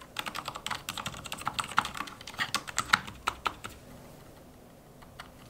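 Rapid typing on a modded mechanical keyboard fitted with custom switches and keycaps, a dense run of crisp clacks for about four seconds that thins to a few scattered keystrokes near the end, close and fairly quiet.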